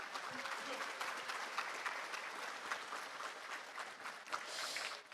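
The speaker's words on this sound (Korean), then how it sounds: "여러분 다시 한번 뜨거운 박수 부탁드립니다" A large audience at a Korean National Assembly Constitution Day ceremony claps warmly for a musical actress and choirs, a steady, even wash of applause throughout.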